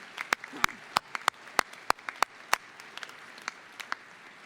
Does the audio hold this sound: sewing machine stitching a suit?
no